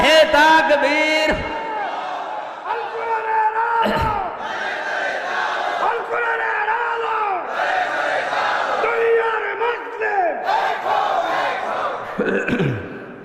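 At a Bengali religious gathering, a large crowd answers a takbir call with loud, sustained chanted shouts. Several surging voiced cries rise and fall in waves across the whole stretch.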